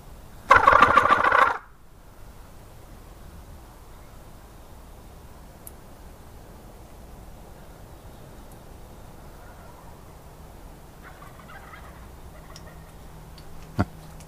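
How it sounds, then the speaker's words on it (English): A wild turkey gobbles once, loud and brief, near the start, followed by quiet outdoor ambience with faint distant sounds. "I just heard one gobble up there."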